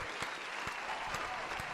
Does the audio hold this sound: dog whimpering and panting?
no